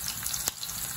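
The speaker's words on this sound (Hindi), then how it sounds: "मेरी करेले भी बहुत अच्छे तरीके से फ्राई हो रहे हैं" Sliced bitter gourd (karela) fries in a pan with a steady, bright sizzle and crackle, close and even throughout, with one brief sharper burst midway.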